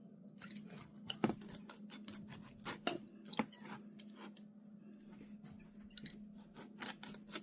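Knife or cutter working through a pizza baked in a cast iron pan, giving repeated sharp crunchy scrapes and clicks in uneven bursts over a low steady hum, quiet and close.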